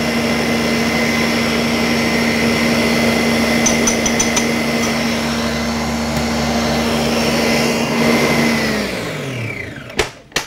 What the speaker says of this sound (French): on va monter nos blancs et on va les serrer avec l'autre partie du sucre